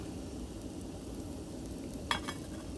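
Sausages fry in a pan at a winter debris-village campsite with a soft, steady sizzle. A single faint metallic clink of the pan or utensil comes near the end, and no one speaks.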